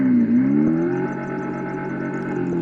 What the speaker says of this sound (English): This top button now goes through and changes the different sounds of the motor revving.